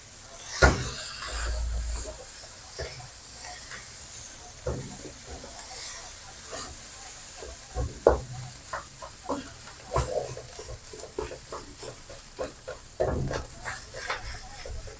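Fermented pork fried rice stir-fried in a wok: a soft sizzle with irregular scraping and clanking of a spatula against the pan, close by.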